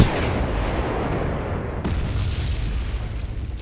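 Mortar fire in the video game Wargame, heard as a dense, loud, continuous rumble of distant booms and blasts that blur together, with one sharper impact partway through.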